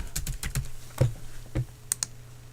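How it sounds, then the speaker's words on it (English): A computer keyboard being typed on, a quick run of sharp clicks followed by a few spaced keystrokes, close and clear with no voices. "I type in fallen angel here"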